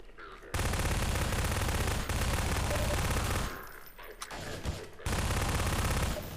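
Loud, sustained automatic gunfire from the Counter-Strike Source sci-fi mod on the Militia map, two long bursts separated by a brief quieter gap with scattered single shots.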